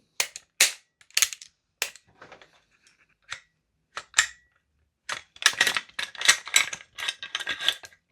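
An airsoft rifle, a Salvo MCX or DE Ghetto Blaster, fires BB shots to clear its magazine: scattered sharp single cracks at first, then a rapid run of close, loud shots near the end, with no talking.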